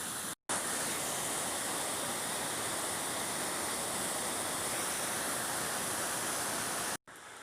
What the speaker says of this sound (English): So, nice river.